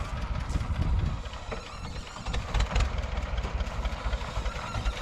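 A T-25 tractor engine running in a village farmyard: a loud, close, rough diesel idle with a throbbing low rumble and rattling, uneven in places, with no voices.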